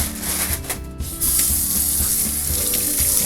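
Kitchen tap water running steadily into a sink while raw shrimp are washed for dumplings, a loud, close, continuous splashing rush with a brief shift in the flow near the start.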